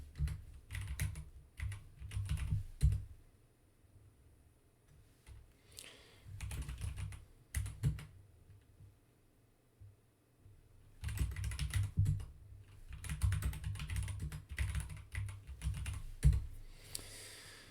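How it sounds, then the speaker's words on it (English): Commands are typed on a computer keyboard in bursts of rapid, close clicking keystrokes separated by quiet pauses, with no talk. "just typing commands."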